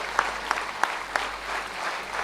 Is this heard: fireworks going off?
no